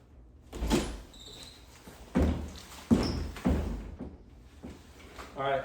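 A door is pushed open during a close-quarters room-clearing drill, heard as several dull thuds and scuffs with footsteps, with people talking nearby.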